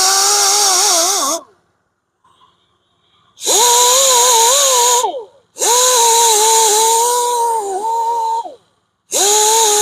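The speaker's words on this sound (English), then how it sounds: "We'll start with the conditioning disc on the grinder and get this out." Angle grinder with a conditioning disc working a coated aluminum Chevy SS wheel, three loud whining passes with rising and falling pitch separated by pauses of near silence.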